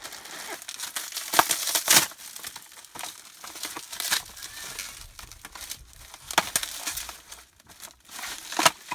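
Paper packaging is torn and crinkled while a mail parcel is opened, irregular bursts of close, crisp rustling and crumpling over about nine seconds.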